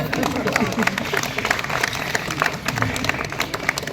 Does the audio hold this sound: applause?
yes